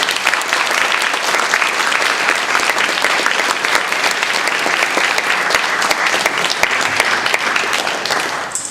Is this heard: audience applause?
yes